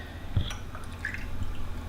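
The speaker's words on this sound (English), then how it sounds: "I'm going to measure off a couple ounces of water." A couple ounces of water poured into a plastic measuring cup, a short trickle with light drips and splashes, close and fairly quiet, heard alone.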